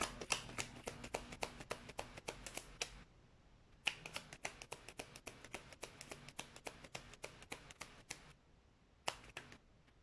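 Tarot cards being shuffled by hand during a card reading, a quick run of crisp riffling clicks in three bursts separated by short pauses, close and fairly quiet with no talking.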